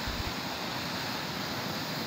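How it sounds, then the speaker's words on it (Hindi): Floodwater rushes like a river through the inner parts of Ranikot Fort in Sindh, a steady, dense, roaring wash with no breaks, loud and close, with no voices. "ये सैलाबी पानी किले के अंदरूनी हिस्सों में किसी दरिया की मानिंद तेज़ बह रहा है"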